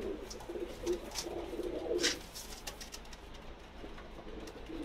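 A Pakistani pigeon coos softly a few times at close range, low throaty calls over quiet background noise.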